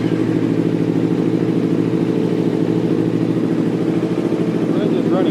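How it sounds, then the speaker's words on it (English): A motorcycle engine idles steadily close by, with a loud, even, throbbing rumble and light mechanical clatter that holds without pause. "The engine is running right now"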